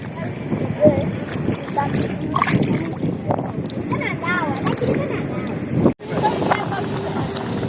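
Motorboat cruising on clear, calm water at a beach in Bujumbura, Burundi, its steady engine drone mixed with wind buffeting the microphone and splashing water, continuous throughout with a brief dropout near the end; people talk over it.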